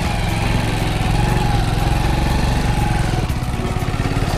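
A motorbike engine runs steadily and close by at Amba Ghat's Sada Point on the Kolhapur–Ratnagiri route, a continuous low rumble with an even idling throb and no voices over it.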